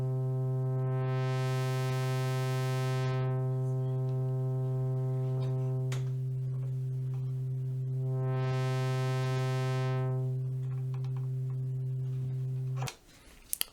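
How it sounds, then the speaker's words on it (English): Behringer Crave synthesizer holding a steady buzzy tone while its filter cutoff opens with added voltage, the brightness sweeping up twice and falling back, alone and fairly quiet, stopping abruptly near the end. "As I add voltage, it will open up the filter."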